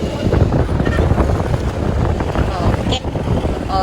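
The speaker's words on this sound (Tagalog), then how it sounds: "Balod yun siya guys, kay hangin man" Wind-driven sea waves wash and churn steadily near a shoreline while strong wind buffets the microphone, with voices talking over it.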